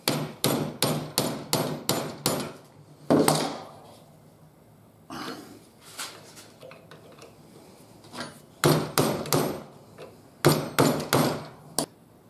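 A hammer taps an old flathead screwdriver into the top of a tent peg puller: bursts of quick, sharp, evenly spaced metallic blows, close and loud, separated by pauses with fainter handling knocks.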